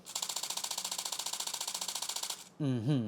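Canon EOS R10 mirrorless camera firing its mechanical shutter in continuous burst mode at 15 frames per second: a fast, even train of crisp clicks lasting about two and a half seconds, close and loud, then a brief voice.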